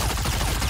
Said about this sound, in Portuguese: Gatling Gun.